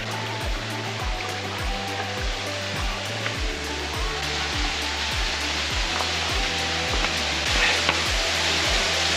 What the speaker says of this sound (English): You can hear the waterfall probably behind me.